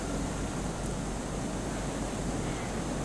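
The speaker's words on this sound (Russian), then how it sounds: "А, то водопад." A steady, dense rush of falling water from a waterfall in the video game Kholat fills the air evenly and without a break. No voices are heard.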